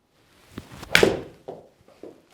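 A PXG 0311 Gen3 7-iron strikes a golf ball with one sharp, crisp impact near the middle, framed by faint footsteps and light handling sounds before and after.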